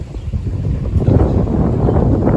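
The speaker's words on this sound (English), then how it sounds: "So windy." Steady wind buffets the microphone, producing a loud, rumbling low roar that fluctuates without pause.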